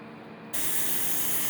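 A pressure cooker cooking yam suddenly releases a loud, steady steam hiss that starts abruptly and continues at full strength, close by and alone.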